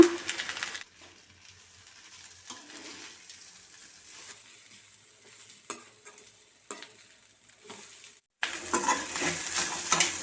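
Whole green moong dal with coconut being stirred and fried in a pan, a spoon scraping in short strokes over a soft sizzle, close and clear, with the frying swelling louder near the end.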